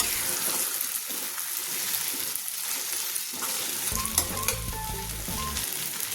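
Sabudana khichdi sizzles and fries steadily in a pan while being stirred, with soft scraping and clinking of the spoon partway through, quiet and close with no talk.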